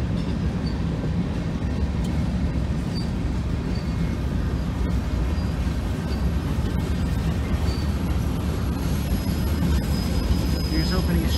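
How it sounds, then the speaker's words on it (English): A freight locomotive shoves back onto its train in a rail yard, a steady low rumble of engine and rolling cars that holds throughout, with voices talking over it. "Here's hoping he's shoving back onto his train and not into the yard track"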